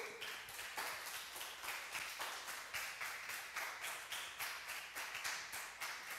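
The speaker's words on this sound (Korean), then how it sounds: "박수!" A church congregation claps together in a steady unison rhythm during a Korean morning worship service, about three sharp beats per second, evenly spaced and sustained, heard at moderate distance without voices over it.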